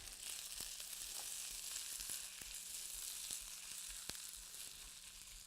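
Fried rice with coconut shrimp sizzling steadily in a pan, a close, even hiss with occasional sharp pops and light stirring clicks, no voices.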